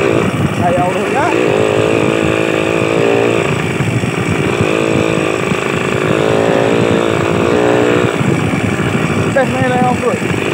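A motorcycle engine with a carburetor overflow problem runs continuously, a loud buzzing idle with a few revs, while people talk over it.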